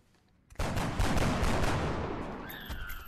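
Sustained burst of gunfire from XCOM: Enemy Unknown, a sudden loud onset of rapid overlapping shots that rolls on for a few seconds and tails off, with no talk over it.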